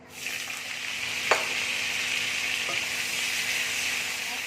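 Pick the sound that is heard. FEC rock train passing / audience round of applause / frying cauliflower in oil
frying cauliflower in oil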